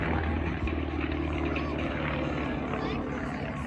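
Propeller warbird engines drone steadily and loudly at an airshow, a continuous rumbling roar with a low throbbing beat that fills the whole stretch without letting up.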